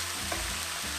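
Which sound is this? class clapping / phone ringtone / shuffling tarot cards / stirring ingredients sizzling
stirring ingredients sizzling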